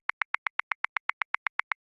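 A programmed drum groove in Ableton Live with swing 16th applied: fifteen short, evenly spaced tonal clicks in a fast steady pulse, clean and fairly quiet with nothing else beneath.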